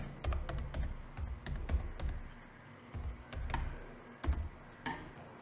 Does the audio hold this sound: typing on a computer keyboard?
yes